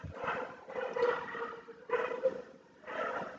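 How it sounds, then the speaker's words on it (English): Dogs barking at night, heard as several rough, drawn-out calls in a slow rhythm, distant and muffled. "as the dogs are barking."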